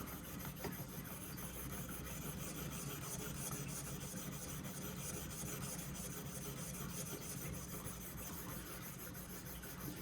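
Traditional pocket knife blade being sharpened on a Worksharp Precision Pro, a faint continuous raspy rubbing of steel against abrasive, steady and close with no voices.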